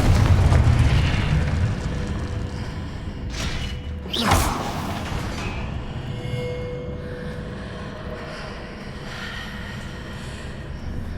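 A Confringo spell blast in Hogwarts Legacy bursts once with a sharp, loud boom in the middle, over a continuous low rumbling game background, with no talk.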